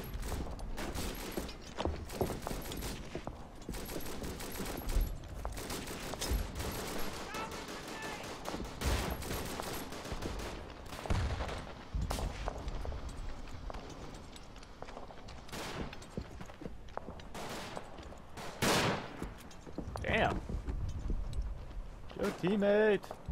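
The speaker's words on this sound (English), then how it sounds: "Hear the gunfire." Gunfire in the World War I shooter Verdun: sharp rifle shots and bursts of fire crack out repeatedly, near and far, amid battlefield noise, while players talk over it.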